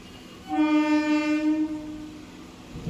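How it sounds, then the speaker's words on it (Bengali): A train pulling into a station at Haridaspur sounds a loud, sustained horn for about a second, then rumbles on, with the horn fading into rolling rail noise. "ট্রেন এলো, ট্রেনে উঠে যা"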